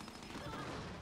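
Gunfire in Gears 5 during a ranked online match, a dense burst of shots and booms that fills the short moment, fairly loud and close, with no talk over it.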